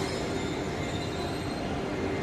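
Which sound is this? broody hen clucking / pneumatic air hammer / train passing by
train passing by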